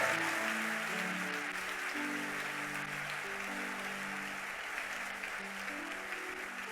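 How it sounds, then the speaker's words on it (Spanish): Church congregation applauding during a sermon, a steady, dense wash of many hands clapping at a distance, with music tones underneath throughout. "Dale ese aplauso más fuerte a Él."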